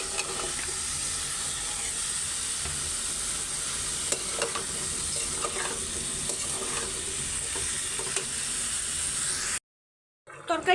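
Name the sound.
sautéing vegetables for a curry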